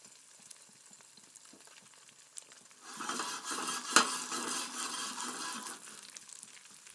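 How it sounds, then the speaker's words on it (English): Eggs fry in a pan with a soft sizzle that swells midway as the pan is moved, with one brief sharp clink of metal, fairly faint and close, with no talking. "Just before flipping, make sure the eggs slide around freely in the pan."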